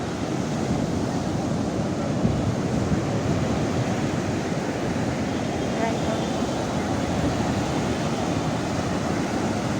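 Ocean surf and wind at Puri beach in Odisha on an overcast morning, a loud, steady wash of breaking waves and blowing air filling the whole stretch without letup.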